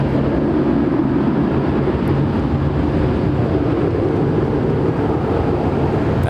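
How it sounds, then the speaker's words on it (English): A China Cargo Airlines Boeing 777 freighter departing Los Angeles airport, a loud, steady low roar of jet engines that holds unbroken and close throughout. "That was China Cargo Airlines Flight 222 departing to Shanghai."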